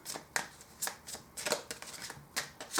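Tarot cards being shuffled, with several crisp riffling bursts at irregular intervals close up, alone without talk.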